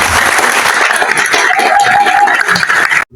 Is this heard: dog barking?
no